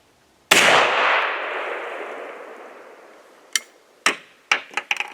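A single blast from a 100-year-old single-shot shotgun fired outdoors, one loud sharp report with a long ringing decay, followed by several smaller clicks and clacks of handling the gun.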